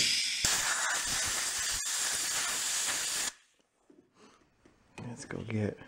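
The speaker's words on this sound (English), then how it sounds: "Compressed air again." A can of compressed air blasts into the parts of a trash-picked, engine-powered blender in a loud sustained hiss for about three seconds, followed by quieter handling noises and a short stretch of talking.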